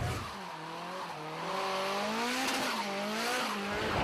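Customized drift cars compete in a Japanese-born motorsport, tires squealing in long wavering howls over roaring engines, loud and close for the whole stretch with no talk.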